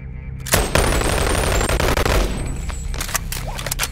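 Rapid gunfire in the Boneworks VR game, dense and loud bursts of shots filling the first two seconds, then thinning into scattered single cracks and impacts.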